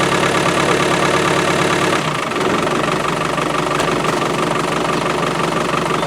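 An Isuzu 4BD1T diesel engine idles loudly close by after a cold start at minus four degrees, a steady knocking clatter that shifts tone partway through, with no talking.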